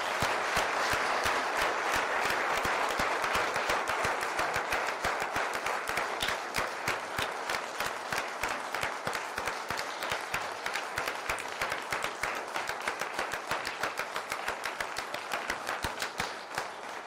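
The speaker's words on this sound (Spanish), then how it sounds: "¿Dejas que le hagamos un aplauso al chico?" Studio audience applause on a Spanish talk show, sustained clapping that stays loud and dense for the whole stretch, then thins into sharper individual claps toward the end.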